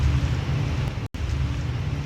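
Steady rain pouring down outdoors, a dense, loud, even hiss that runs continuously with a brief cut partway through and no voices.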